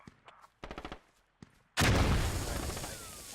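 AK rifle gunfire in the Squad war game: a few short, sharp distant bursts give way to a sudden loud close volley that roars and slowly trails off.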